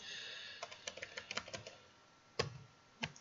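Keys clatter on a computer keyboard during a database lab session, a quiet burst of quick irregular taps followed by a pause and then two sharper, isolated keystrokes, with no talking.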